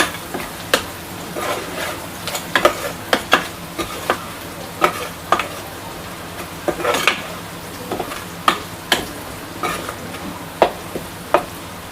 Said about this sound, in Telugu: వీటిని అయితే బాగా కలుపుకుంటున్నాను